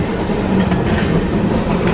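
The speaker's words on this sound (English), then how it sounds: "These are regular trains out here on the prairies of Canada." A long freight train rolls past on the Canadian prairies, a loud continuous rumbling roar of wheels and cars with steady rhythmic clatter, close by and without talk.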